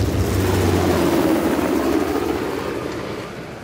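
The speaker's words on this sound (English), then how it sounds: "How the hell did Asov get that helicopter?" A helicopter in the game Uncharted: The Lost Legacy gives a steady, loud rotor-and-engine drone that holds through the whole stretch, easing slightly toward the end, with no talk.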